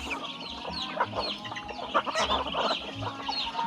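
Native chickens raised in a barangay cluck continuously, several birds close by overlapping in irregular bursts of short clucks and calls, over outdoor background noise with no speech.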